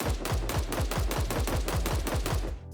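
Rapid, evenly spaced synthetic gunshots designed for an Apex Legends sound redesign, pitch varied by an LFO and sequenced by an arpeggiator, fire in a tight burst of about a dozen punchy shots, like a machine gun, loud and close.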